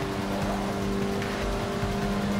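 Lancer Evolution racing engine in Forza 6, a steady, loud drone with constant tonal hum throughout, no voices.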